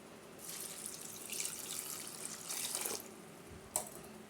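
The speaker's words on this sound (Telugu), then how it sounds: "వాటర్ వేసి కడుక్కుందాము." Fresh mint and coriander leaves being rinsed in a container of water, a steady watery splashing and swishing close by that swells and fades in two longer bursts, ending with a single sharp clink.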